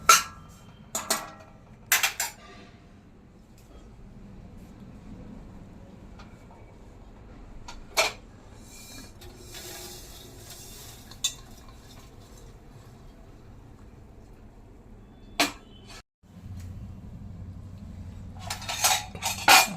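Roasted dry coconut is scooped out of a pan, with sparse metallic clinks and scrapes of a spoon against the pan over a low, steady background, loudest at the start and end.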